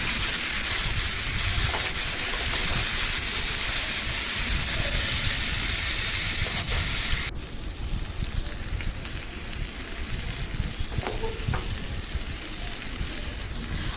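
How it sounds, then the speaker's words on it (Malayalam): Two or three fish pieces fry in a non-stick pan with a little coconut oil over a low flame, making a continuous even sizzling hiss that eases slightly partway through, with no voices. "അപ്പോൾ നമ്മൾ 2-3 കഷ്ണം വറുക്കാനെടുത്ത് വെച്ചിട്ടുണ്ട്. അപ്പോൾ അത് വറുത്തുകൊണ്ടിരിക്കുകയാണ്."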